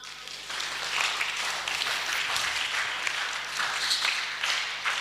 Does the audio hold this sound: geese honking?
no